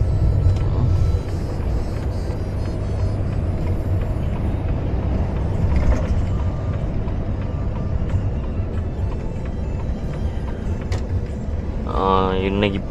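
Truck hauling a load of tyres, steady low engine rumble and road drone from inside the cab throughout, with a brief rattling sound near the end.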